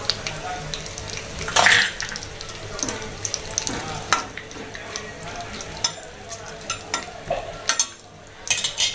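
Bay leaves fry with cumin seeds in hot oil for a red lentil pulao. A soft, steady sizzle carries on under light clinks of a stirring spoon against the pan.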